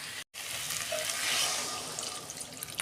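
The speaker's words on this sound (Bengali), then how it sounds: "কষানো হয়ে গেছে, আমি জল দিয়ে দিচ্ছি।" Water pours steadily into a pan of cauliflower and potato curry, a soft, continuous splashing rush at close range with no talking.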